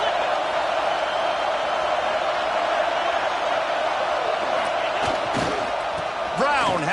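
A football stadium crowd roars steadily throughout a college football game as it cheers on the defense in the red zone, a dense, loud, sustained wash of noise with a few sharp peaks and whistle-like calls near the end.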